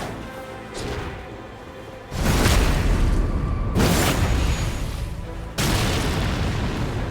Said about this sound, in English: Okay, they're shooting nukes.